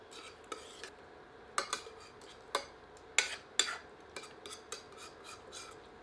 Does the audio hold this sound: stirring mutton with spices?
yes